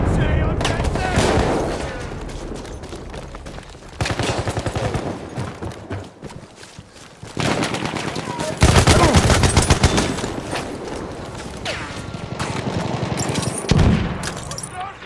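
Sustained machine gun fire in Battlefield 1 multiplayer Domination on the Saint Quentin Scar map, with dense automatic bursts and loud crackling volleys that keep rolling with brief lulls, mixed with other battlefield gunfire.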